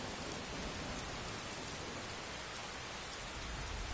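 Steady rain patters on a helmet in the game Skyrim, a dense, even hiss of drops with a low rumble underneath, constant and close with no voices.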